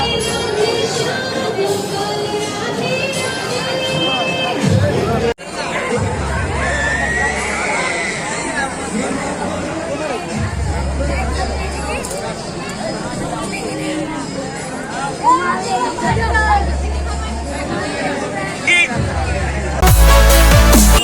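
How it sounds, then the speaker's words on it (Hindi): A dense Durga Puja festival crowd fills the Bazar Samiti area of Darbhanga with a constant roar of babble and chatter, with traffic and loudspeaker sounds underneath and a nearby voice talking over it. "ये देखिए भीड़ देखिए कितना ज़्यादा लगा हुआ है"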